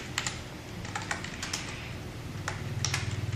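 Soft clicking of computer keys in quick irregular bursts, quiet and nearby, with faint room noise between keystrokes.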